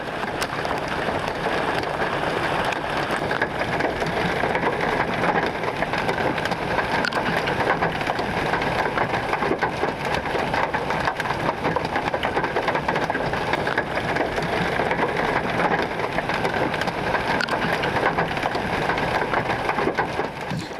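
Hail falling in a storm in Texas near Pecos, a dense, steady loud patter hitting surfaces throughout, with no voices.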